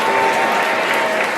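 Audience at an amateur wrestling match in a bar claps steadily and loudly throughout, a dense wash of applause with faint crowd murmur underneath.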